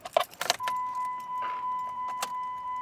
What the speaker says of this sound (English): We just have to turn on the ignition.